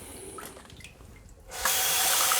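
Cold water from a sink tap starts abruptly and runs steadily and loud after a short quiet stretch of faint handling noise.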